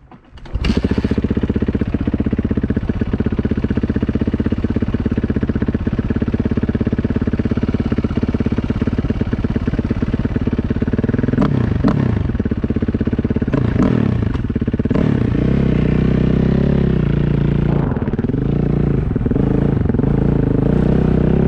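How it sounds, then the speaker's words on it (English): A motorcycle engine idles loud and close, then revs and clatters as the bike pulls away on a ride, a steady rumble with rising and falling throttle toward the end. "let's get out on the bike and do some riding"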